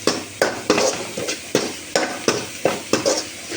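Spices for rasam are stirred in a pan, a spoon scraping in quick regular strokes about every third of a second over a light sizzle, close and clear with no talk.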